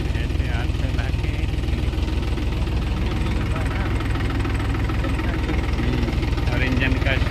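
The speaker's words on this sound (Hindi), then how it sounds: "और इंजन का शोर आ रहा है।" A passenger boat engine runs steadily on the water at Bhakra Nangal dam, a loud, continuous knocking drone heard close up, with people talking over it.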